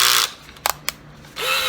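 A budget Power Fist or Mastercraft power drill whirs, cuts out with a few sharp mechanical clicks and a short pause, then spins up again loudly and close.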